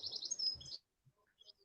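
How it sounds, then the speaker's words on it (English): Birds in a garden give a quick run of bright high chirps and tweets, fairly close, followed by a few faint scattered calls after a brief pause. "I can hear the birds chirping at the background"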